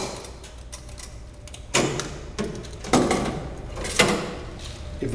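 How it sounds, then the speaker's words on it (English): A filter is pulled out of a unit, producing several distinct knocks and scraping clicks at uneven intervals over a constant low hum, close by and with no talking. "Now remove the filter"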